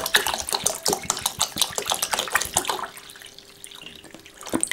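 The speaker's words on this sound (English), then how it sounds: "top the bowl up with mineral water" Mineral water pours steadily into a bowl holding bird's nest, splashing up close and then tapering to a thinner trickle with light clinks.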